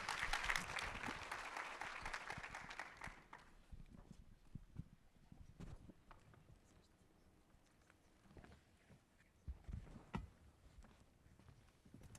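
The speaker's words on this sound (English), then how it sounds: "Let's give our panelists a huge round of applause." Audience applause for conference panelists at the 2026 Siyaphumelela Conference, a burst of clapping for the first three seconds that thins into scattered claps and room noise.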